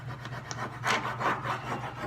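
A cloth rubs over a surface finished with metallic paint, making a few soft, swishing strokes close to the microphone over a low steady hum.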